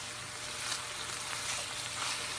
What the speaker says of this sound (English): Get that garlic going in there with the onion.